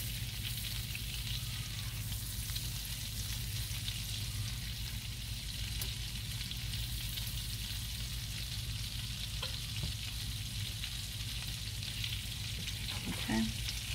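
Butter and canned corn cook in a pan, giving a steady, even sizzle at close range that holds throughout, with a few faint utensil clicks near the end.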